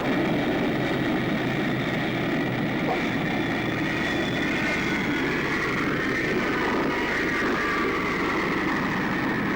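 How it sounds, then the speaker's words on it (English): A U-2 spy plane in flight gives a loud, steady, broadband roar that holds unbroken at constant strength throughout, with no voices present. "the latest version of the U-2 spy plane"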